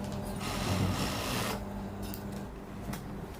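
A sewing machine runs steadily, stitching over a trouser crotch seam several times to lengthen the rise, a close continuous whirring hum that eases slightly after the first second and a half.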